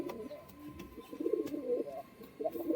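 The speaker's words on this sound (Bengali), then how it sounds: "নটটা তো ডাক করছিল মাদিটা ডাক করছে" Pigeons of a fancy breed cooing, a male and a female in turn, with soft, throaty, rolling coos close by in short repeated bursts and quiet gaps between them.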